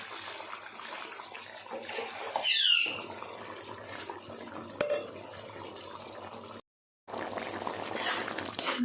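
Sauce for mixed fried rice bubbling and simmering in a pan, a steady wet hiss with utensil clinks, alone without talk, briefly cut to silence near the end.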